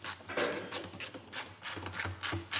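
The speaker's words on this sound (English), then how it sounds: "we're gonna put our gas tank bolt back in." A hand ratchet tightens the gas tank bolt on a 2025 KTM SX 85 dirt bike fitted with an IMS oversized tank, giving about seven close, crisp bursts of rapid clicking with short pauses between strokes.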